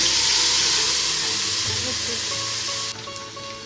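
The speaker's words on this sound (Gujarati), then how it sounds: "છે ને વઘારમાં ટમેટાની પ્યુરી" Tomato puree hitting hot oil tempered with mustard seeds and asafoetida in a large pot, giving a loud, close, steady sizzle that fades slightly toward the end.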